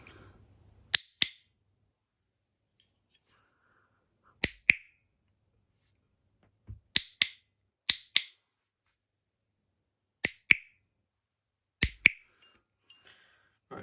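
WWII US cricket clickers, originals including one from Normandy, snapped one after another: about seven sharp metallic double clicks, each a quick click-clack pair, spaced by pauses in an otherwise quiet room.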